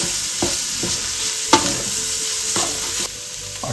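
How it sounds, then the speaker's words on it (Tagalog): Tripe for papaitan is sautéed in a pan, a steady sizzle with repeated scraping stirs of the spatula, close and fairly loud, no voices. "Gisa natin ng maayos"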